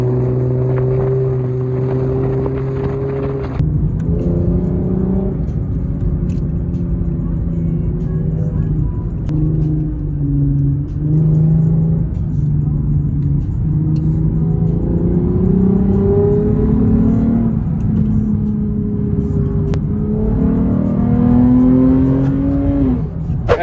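A BMW accelerating hard while racing a Lamborghini on the road, its engine drone steady and loud throughout, the pitch rising and dipping through gear changes, with voices talking over the engine now and then.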